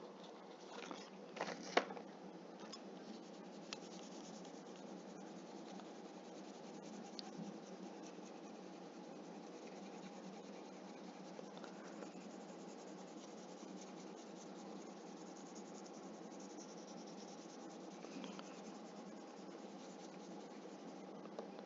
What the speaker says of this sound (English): now we're going to take our crayon and we're going to shade half of the